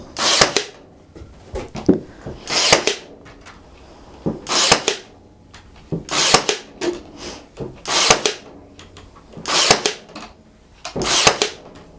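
A brad nailer fastens wood on a farmhouse trash cabinet, firing a run of sharp, loud, close pops spaced every second or two with brief handling noise between shots.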